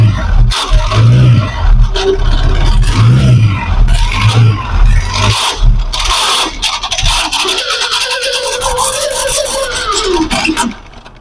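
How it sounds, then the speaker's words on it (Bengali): A Yamaha FZ V2 motorcycle engine with its clutch-side cover removed runs with a loud, continuous rough rattle and repeated knocking clatter, harsh and close throughout. "এই ফেজার বাইকটি ইঞ্জিন থেকে ঘট ঘট শব্দ করতেছে"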